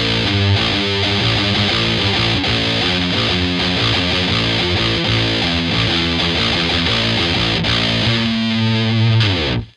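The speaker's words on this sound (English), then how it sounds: "We're still using the prime distortion." Electric guitar riff with heavy prime distortion, loud and dense with chugging repeated notes, playing alone for nearly ten seconds before cutting off.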